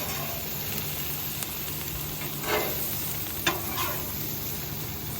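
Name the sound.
Brussels sprouts and bacon sizzling in a covered pan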